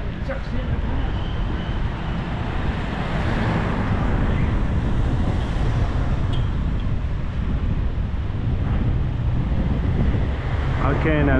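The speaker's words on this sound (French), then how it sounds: "Ok, un petit vent de sable" Strong wind carrying sand roars steadily against the microphone in a continuous, loud rush during a hot afternoon bike ride, with a voice speaking faintly underneath.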